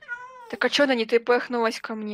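A tamed Minecraft cat in a village meows once, in a short falling cry, just before a voice starts speaking over the rest of the moment.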